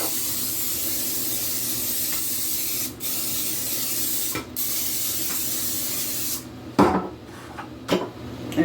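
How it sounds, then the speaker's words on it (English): Long bursts of canola oil cooking spray hiss continuously onto an 8x8 casserole pan with brief pauses, ending with a few clinks and short sprays nearby. "I'm going to spray my pan in this canola oil"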